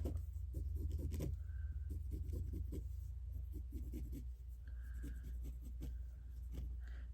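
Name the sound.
drawing a sewing line on fabric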